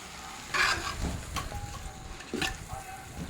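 A few scraping, stirring strokes of a spoon in a pot of chicken biryani after water is added, with a soft sizzle of frying underneath and no talking.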